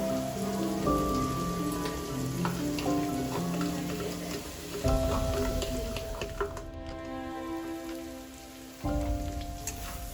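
Veg chowmein with chowmein masala stir-frying in a pan, heard as a dense, steady patter of crackling sizzle under background music, with no talking.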